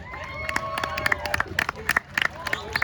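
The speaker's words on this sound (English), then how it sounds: "Give them a round of applause, please." Audience applause at a Babao Arnis martial arts demo, with scattered uneven claps rising over crowd murmur and a few sharp louder claps, fairly close and sparse rather than a full ovation.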